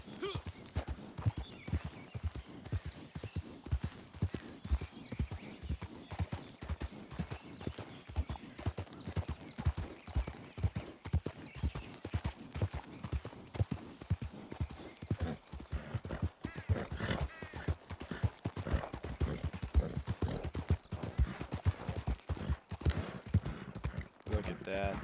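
A video-game horse trots with a steady, rapid clip-clop of hooves that runs the whole time, close and even, while someone talks over it.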